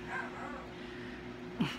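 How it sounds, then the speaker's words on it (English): Aging pet dog indoors during a family Christmas dinner, giving a short, quiet bark near the end after a faint whimper, over a low household hum. "She'll just bark at him."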